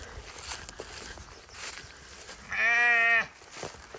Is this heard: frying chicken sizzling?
no